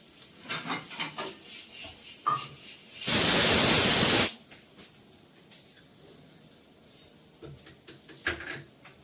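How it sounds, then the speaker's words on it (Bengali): Spices hit hot oil while tempering dal in a home kitchen, a loud burst of sizzling that lasts about a second before settling back to quiet clinks and soft kitchen noises. "মাছ ভাজার আগে আমি ডাল ফোড়ন দেবো।"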